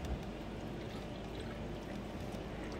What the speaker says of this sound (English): we're just gonna pour that right over the meat